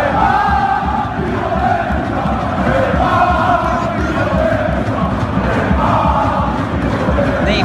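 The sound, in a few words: PSG football fans chanting at Neymar, played video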